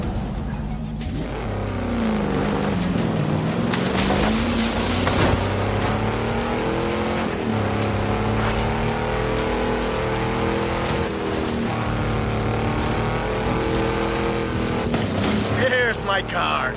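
Engine of a Jaguar XJR-15 in the racing game Forza Horizon 5, a steady loud drone with shifting pitch as it revs and eases off throughout, with talk over it.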